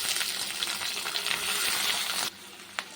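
Capsicum frying in a pan for chilli chicken makes a busy, close sizzle with stirring for about two seconds. It then drops away to near quiet, broken by one short clink.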